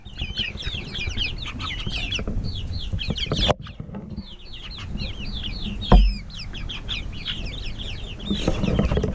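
Meat bird chickens, kept on wet fermented feed, cluck busily in a dense chorus of short overlapping calls, close and fairly loud, with a few scuffling knocks and no talking.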